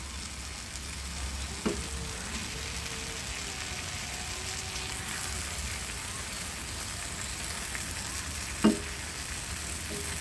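Tomatoes stir-fried in a pan, a quiet, even sizzle running steadily in the background, broken by two sharp taps of a spatula against the pan.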